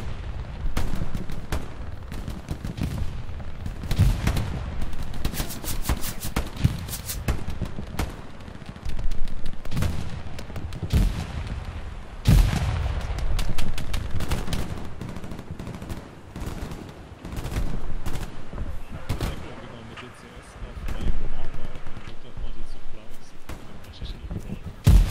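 Gunfire from Hell Let Loose, a World War II shooter, in a beach defence on the Utah map: repeated sharp shots and bursts crackle across the whole stretch with combat noise beneath and a voice talking at times.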